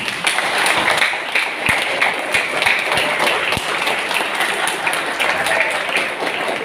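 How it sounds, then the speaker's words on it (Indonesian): Congregation at a church installation service of a new board applauds together, a steady broadband clatter of clapping with a few sharper claps standing out, filling the hall throughout. "mari kita bangkit berdiri dan kita memberikan tepuk tangan"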